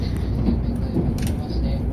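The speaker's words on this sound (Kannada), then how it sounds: "ನಮ್ಮ ಟ್ರೈನ್ ಸ್ಟಾರ್ಟ್ ಆಯಿತು. ಸೊ ಈ ಒಂದು ಟ್ರೈನ್ನ ಸ್ಪೀಡ್ ಬಂದು 300 km/h" Steady low rumble and hum inside a high-speed train rated at 300 km/h as it sets off, a continuous, fairly loud drone with faint higher hiss and no talk.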